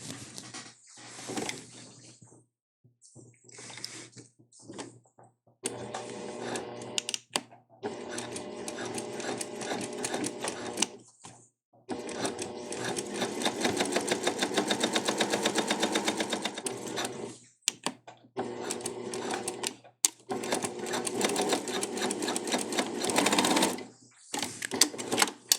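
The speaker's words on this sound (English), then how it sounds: "You're going to sew down both of those at a ½ inch seam allowance." Sewing machine stitching the side seams of a tote bag liner, running in several bursts of steady rapid whirring with short pauses between, close and clear with no talking.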